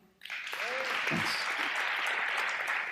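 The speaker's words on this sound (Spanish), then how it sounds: "¿Le da un aplauso al Señor?" Church congregation applause during a Spanish-language sermon, a sudden onset of dense steady clapping that holds evenly after the first moment, with brief vocal sounds near the beginning.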